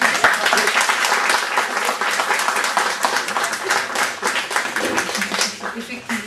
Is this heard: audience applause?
yes